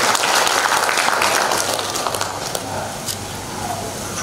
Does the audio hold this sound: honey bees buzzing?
no